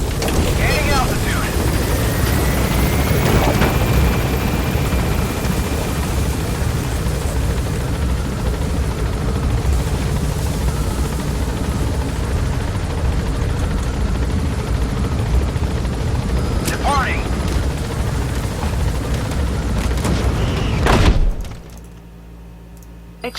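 Helicopter rotors and turbine in Metal Gear Solid V: The Phantom Pain, a steady loud thrumming drone as it lifts off and climbs, holding for about twenty seconds before cutting abruptly to near silence.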